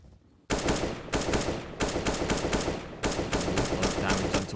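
Mac-10 submachine gun fire in a Counter-Strike match on Inferno: four loud, rapid automatic bursts follow one after another with only tiny gaps, close and dominant, with no talk.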